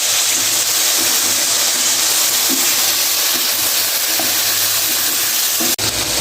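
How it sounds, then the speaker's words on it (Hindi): Potatoes fry in a pan for aloo biryani, giving off a loud, close, continuous sizzle and hiss that holds steady throughout, with a brief sharp dip near the end. "तो अभी थोड़ा सा आलूओं को फ्राई कर लेते हैं।"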